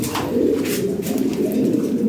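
Lahori and Sirazi pigeons coo in a steady, overlapping murmur, several birds close by and continuous throughout with no voices.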